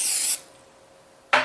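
Cooking spray hisses into a glass bowl in a short, close burst that cuts off, followed by a pause and the start of a second spray.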